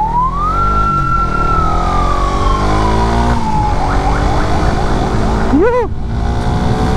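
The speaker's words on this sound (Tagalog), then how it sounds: "Mararamdaman mo na yung tunog ng motor, kagaya nito." A 2022 Suzuki Raider 150 FI motorcycle engine held in one long rev that climbs, hangs, then sags back. A quick sharp blip follows, over a steady close-up idle, with no one talking.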